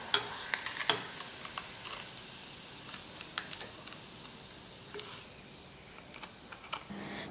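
Sabudana papad frying in hot oil, a steady soft sizzle with a few sharper crackles and pops near the start, fairly quiet throughout.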